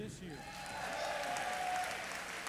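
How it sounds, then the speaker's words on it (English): An audience at an awards program gives a fairly faint, sustained round of applause heard from a distance, with voices mixed in over the clapping. "Give a big round of applause if you are with us this year."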